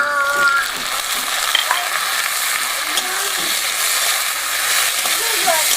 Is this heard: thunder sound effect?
no